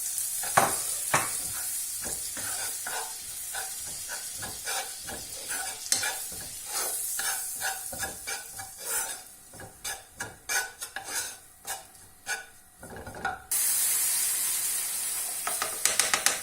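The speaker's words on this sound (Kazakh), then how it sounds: "ұнымызды қуырамыз." Steady sizzling of flour frying in butter in a pan, with a utensil scraping and stirring in quick, repeated strokes throughout, close and fairly loud.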